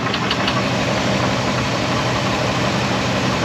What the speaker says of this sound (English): So that's why I think it's lifter noise, because it comes and goes.